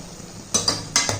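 Spoon stirring tomato masala with a little water in a cooking pan, a soft bubbling sizzle broken by a few quick scraping clinks, close and moderately loud.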